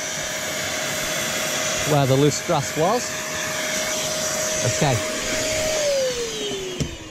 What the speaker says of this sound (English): So if you just knock the hoover on just for a moment